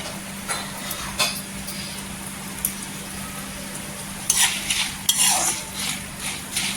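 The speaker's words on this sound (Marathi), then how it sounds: "इथे मक्याचं फ्लेक्स टाकायचं चिवड्यासाठी छान असं फ्राय करून घ्यायचं" Corn flakes fry in hot oil for murmura chiwda, a soft steady sizzle under a constant hum, broken by occasional sharp scrapes and clinks of a metal spoon against the pan.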